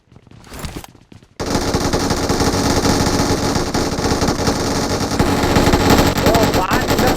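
Loud, sustained automatic gunfire from several weapons fills a video game battle, starting suddenly after a brief quieter moment and continuing as a dense, unbroken rattle with voices faintly mixed in.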